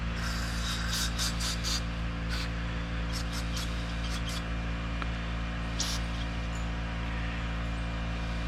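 Carburetor cleaner sprays into the acceleration pump nozzle of an FCR carburetor in short hissing bursts: a quick cluster, then several single blasts, all over a steady background hum.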